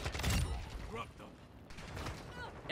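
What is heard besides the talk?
rifle reload of the Kastov 545 in a video game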